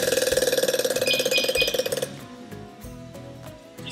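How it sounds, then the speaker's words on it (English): A firefighter's air pack gear is put on with a fast, loud ratcheting rattle, then scattered lighter clinks and mechanical clicks nearby. "this air pack makes a lot of funny noises"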